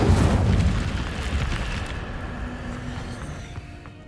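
Incendio fire spell cast in Hogwarts Legacy, opening with a loud whooshing burst of flame and rumble that slowly fades into a softer lingering roar.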